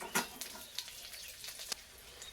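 Faint crackling sizzle of black cumin seeds and two green chillies added to oil left from frying rohu fish, with soft scattered pops over a quiet background.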